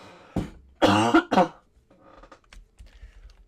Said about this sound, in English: I'm just going to leave the coughs in